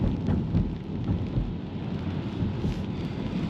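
Steady rain falling on a Tesla Model 3 while it is driven, a dense continuous patter with low rumbling road and cabin noise underneath, evenly loud throughout with no talking.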